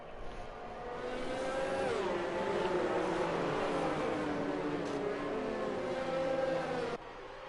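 Formula 1 race cars at the Australian Grand Prix: a steady, distant engine whine that shifts pitch as cars pass, with a sharp cut near the end and no talk.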